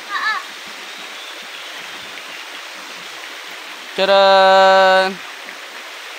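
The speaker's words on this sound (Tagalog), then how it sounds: "Ito yung ilog dito sa bukid ni Papa Bear" A river on a family farm flows as a steady, soft broadband rush of water throughout, with a voice briefly at the start and a loud sustained tonal exclamation near the end.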